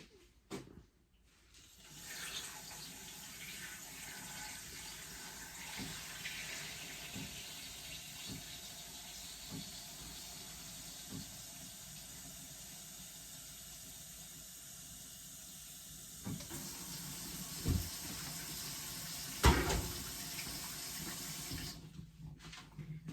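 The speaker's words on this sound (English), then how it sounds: "We're gonna fill this up with water." Tap water runs steadily into a pot for boiling plantains, a continuous hissing fill lasting about twenty seconds, with a few clunks of the pot near the end and no talk.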